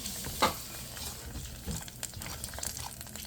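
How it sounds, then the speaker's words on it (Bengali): Hot tempering is poured into boiled masoor lentils with raw papaya, bursting into a sizzle followed by a steady crackling fry and stirring, close by with no talking. "আমার বাগারটা রেডি, বাগারটা দিয়ে দিলাম।"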